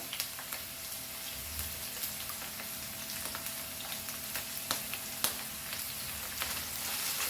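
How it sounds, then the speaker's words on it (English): Chopped capsicum frying in a pan for beef fried rice gives a steady, fairly quiet sizzle and crackle with scattered small pops and an occasional stir, heard alone. "now we will add our capsicum also to this, and fry this capsicum."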